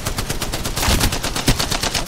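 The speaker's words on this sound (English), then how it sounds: "Okay, I'm stuck down here because Priya is shooting at me now" Rapid automatic gunfire from another player in a video game, a steady stream of sharp shots with a couple of heavier bursts, loud and close, with no voices over it.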